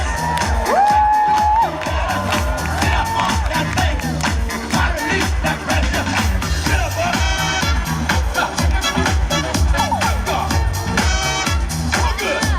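Crowd at a dance battle event cheering, whooping and shouting over loud pounding music, a dense continuous roar of many voices throughout.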